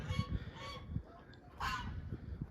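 Geese honking at a farm with goats, several nasal honks in quick succession, close and moderately loud with no speech.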